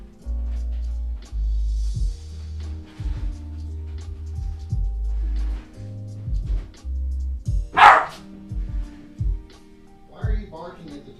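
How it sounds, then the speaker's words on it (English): A dog named Bingo barks at a moving cat toy indoors, a series of short low woofs with pauses between, mixed with a person talking and some clatter. "Bingo's barking at a cat toy that moves."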